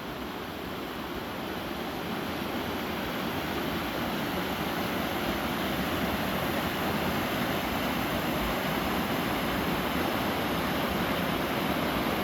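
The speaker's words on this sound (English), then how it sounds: "This is part of our little creek after 12 inches of rain." Swollen creek after 12 inches of rain, a steady, loud, broadband roar of rushing water that holds without pause for the whole stretch, with no voices.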